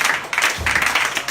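A church congregation at an evangelism campaign in Abidjan applauding the Lord, a short burst of dense clapping from many hands, loud and close, swelling in waves across the room.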